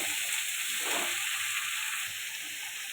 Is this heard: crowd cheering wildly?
no